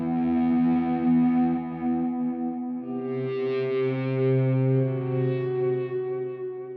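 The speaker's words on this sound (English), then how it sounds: "I've added a few distorted guitar parts which are doing a kind of string-like sound" Sustained distorted electric guitar parts in a music track swell into a smooth, string-like orchestral pad, layered with echo and chorus and shifting to a lower chord partway through.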